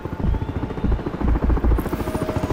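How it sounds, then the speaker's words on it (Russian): A helicopter in the Crysis 3 video game, on the dam level, thumps with steady rapid rotor beats that pulse loudly and evenly from start to finish, with a low engine hum underneath. "Я слышу вертолет."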